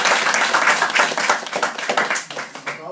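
A room of people claps loudly for Wayne at a Herbalife success talk, a close, uneven patter of individual hand claps over a few seconds, with some voices mixed in.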